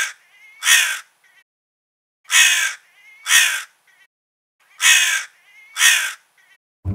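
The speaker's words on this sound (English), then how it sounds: "He opened his beak to caw and plop." A crow caws loudly and close by, giving six harsh, rasping calls in separated pairs with silent gaps between them.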